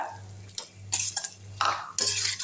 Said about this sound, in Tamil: நல்லா கிண்டி விட்ருங்க